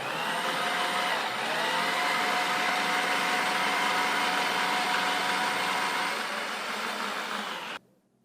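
An electric spiralizer machine running with its cutting disc, a steady loud motor whine held for several seconds, then cutting off abruptly, no talk.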